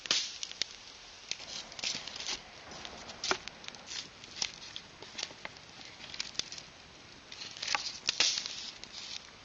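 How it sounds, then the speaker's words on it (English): Campfire at night in the woods, crackling and popping with sharp irregular snaps and clicks scattered over a soft low hiss, close and fairly quiet, with no talk. "So I'm just sitting here by the fire, keeping warm, listening to her"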